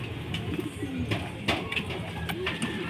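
Racing pigeons coo softly at their loft as birds return from a long race, with low repeated coos, wing flutters and light background noise from people nearby.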